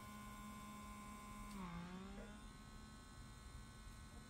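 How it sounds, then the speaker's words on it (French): A small vacuum cleaner draws air through the microphone inlets of a hearing aid, giving a steady, close electric hum with a brief dip in pitch midway as the nozzle meets the opening, then steady again. "on va vraiment insister avec l'aspirateur, au moins 1 minute d'aspiration par entrée de micro"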